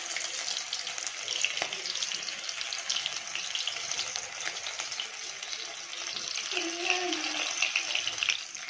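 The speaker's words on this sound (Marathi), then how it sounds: "आता आपली जी कोलंबी आहे ती आपण तेलामध्ये फ्राय करून घेणार आहोत।" Prawns fry in oil in a pan over a low flame, a steady hissing sizzle that runs the whole time. The frying is fairly loud and close, with faint watery crackle and no talk.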